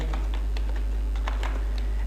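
Quick bursts of typing on a computer keyboard, close and clear, with irregular clustered keystrokes across two seconds, entering an email account name.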